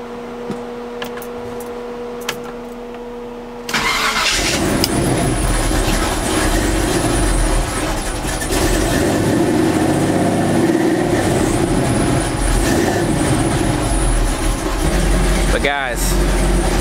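A car engine starts with a sudden jump in level and keeps running loud and rough through poor-sounding mufflers, with an electric cooling fan fitted to the motor, and a voice speaks briefly near the end.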